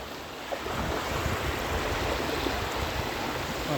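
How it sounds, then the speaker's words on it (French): Water poured onto a statuette, a steady broadband splashing trickle that stays even and fairly faint for a few seconds, close to the microphone with no talk. "est-ce que vous voyez l'eau qui se verse?"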